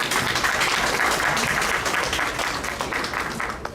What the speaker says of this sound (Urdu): بہت ساری تالیاں کامران